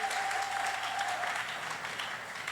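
A church congregation claps in praise to the Lord, a steady, full burst of applause that fills the room without a break.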